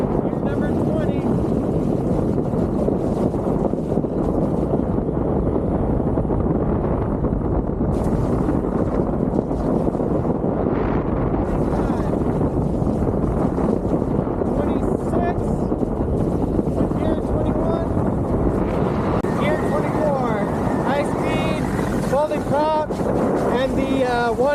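A Waydoo Flyer EVO eFoil with a 3-blade EVO prop rides over water at about 25 mph, giving a steady rushing roar of water and wind buffeting that runs unbroken throughout, with light hissing splashes near the end.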